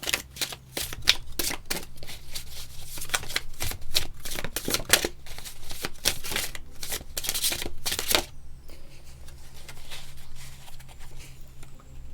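Tarot cards being shuffled in a series of quick, papery riffles and flicks, close and crisp for about eight seconds before settling into quieter handling.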